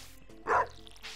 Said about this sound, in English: This pup is barking again.